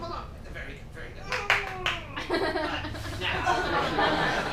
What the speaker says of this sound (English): clap a moment for your efforts.